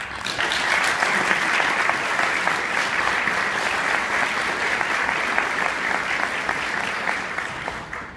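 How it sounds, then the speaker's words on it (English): Sustained applause from an audience honouring past presidents at a presidential acceptance event, a dense, steady clapping that carries evenly for about eight seconds before tapering off at the very end. "Can we give them an applause?"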